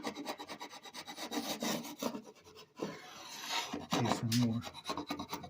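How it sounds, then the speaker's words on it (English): A chisel scrapes dried glue off a wooden table top in repeated rasping strokes, close and moderately loud, with a brief pause midway and a short spoken phrase over the scraping. "So I just take it with my chisel."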